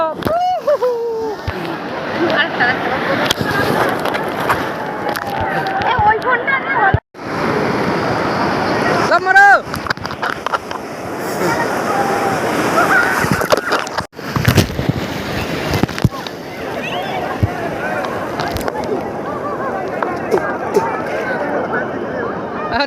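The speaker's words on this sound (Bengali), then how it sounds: "আমরা এখন নেমে গেছি দীঘাতে জলের মধ্যেই দেখো জল আসছে" Sea waves washing in at Digha beach, a loud continuous roar of surf and splashing water close by, with wind buffeting and people talking over it throughout.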